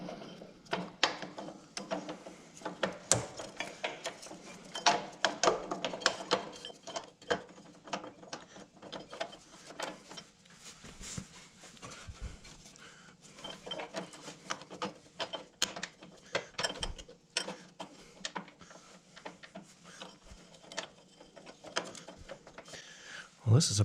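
Mechanical clicking, ratcheting and metallic rattles come from a bolt being worked off an idler pulley on a John Deere GX75 mower during a drive belt change, in irregular bursts over about 24 seconds, close by.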